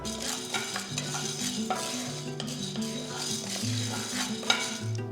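Dal dry roasting in a pan for curry leaf idli podi, a soft continuous rustle and hiss with repeated scraping stirs of a spatula and a light metallic clink, close and without speech.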